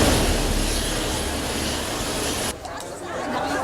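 A military helicopter flies over an island airport lying in ruins after a disaster, a loud continuous engine roar that drops off abruptly near the end.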